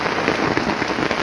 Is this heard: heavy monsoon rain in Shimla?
yes